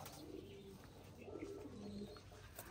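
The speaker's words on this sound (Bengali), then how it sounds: "আমি হাতে নিয়ে দেখাচ্ছি আমার পছন্দের কবুতরগুলা।" Pet pigeons held in the hand, cooing softly in several low, rounded calls close by over a faint background hiss, with a few light chirps mixed in.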